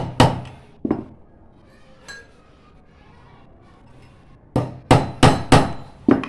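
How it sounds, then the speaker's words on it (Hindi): A screwdriver taps sharply on a car shock absorber during repair: two single knocks, a faint one, then a quick cluster of four close, loud clinking strikes. "इस तरह पेचकस के साथ हम छोटा सा टक लगाएंगे।"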